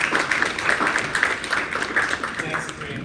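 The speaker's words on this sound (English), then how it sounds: "please give a round of applause to Ryan Boyd" Audience applause welcoming a guest speaker at a data visualization meetup, a dense steady wash of many hands clapping throughout, fairly close and even in loudness.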